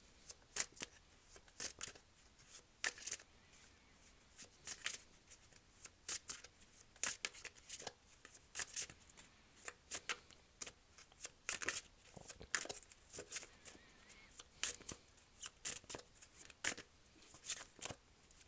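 Tarot cards being shuffled, a soft irregular flurry of quick riffling and slapping card sounds repeating close by throughout, quiet with no talk.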